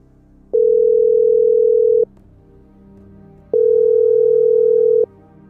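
Two long, steady ringback tones of equal length, separated by a pause of silence, sound clearly over a phone line.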